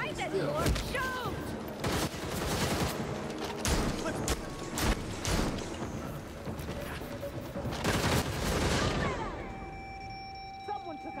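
Rapid video game gunfire crackles in dense bursts through much of the stretch in a Gotham Knights or Overwatch 2 session, mixed with game effects, fading to a steady tone near the end; speech is present.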